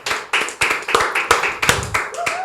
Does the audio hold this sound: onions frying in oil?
no